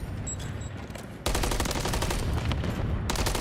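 Dense automatic gunfire from a Call of Duty match chatters steadily, growing louder and fuller partway through as several weapons fire at once in a sustained fusillade.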